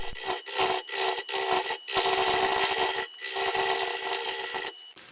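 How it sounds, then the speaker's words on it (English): Pointed carbide scraper cutting super dry, cracked cherry burl spinning on a wood lathe, a loud close continuous rasping scrape broken by brief rhythmic gaps as the tool catches the uneven wood. "I really like this pointed carbide scraper."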